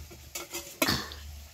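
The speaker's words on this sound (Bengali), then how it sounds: "আর এই দিকে উনানটা এই ধরালাম, হাঁড়িটা বসিয়ে দিই" A small cooking pot set down on a clay stove gives two quick, close knocks, the second sharper, against a quiet background.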